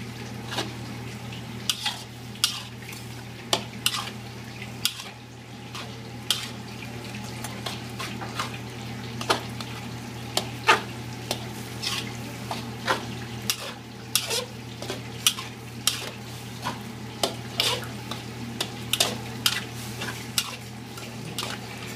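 A utensil stirs and scrapes pancit bihon rice noodles in a pan, producing repeated clinks and taps over a soft cooking hiss and a low steady hum, with no talking.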